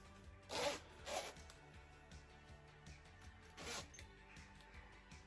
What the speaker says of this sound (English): Let's see if it zips up.